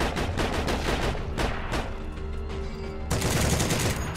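An M1919 machine gun fired from the hip in Heroes and Generals gives loud, dense bursts of rapid gunfire over several seconds, with a short lull before the shooting resumes.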